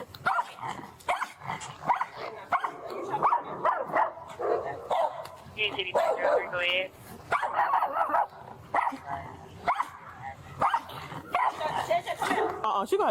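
Small dogs bark and yip repeatedly through the scene at close range, sharp bursts with whimpers and growls mixed in, while people talk over them in a house during a police call about a reported death.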